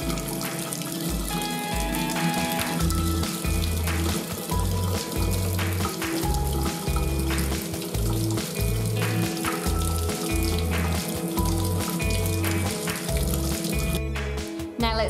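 Water runs steadily over skin during a makeup rinse-off test, a continuous faucet-like splash heard under a loud, rhythmic music track.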